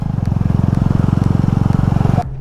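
A group of superbikes riding past together, their engines giving a loud, steady pulsing drone with rapid regular beats that cuts off abruptly near the end.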